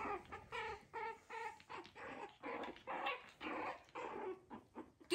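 Young puppy growls and whimpers in a string of short, close, quiet bursts, with small yips mixed in during play with the family's dogs.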